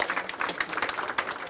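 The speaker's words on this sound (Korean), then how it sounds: "지지자들은 박수로 격려했습니다" Supporters applauding in a Seoul mayoral candidate's campaign office on election night, a brief burst of brisk, dense clapping with a few sharper claps standing out.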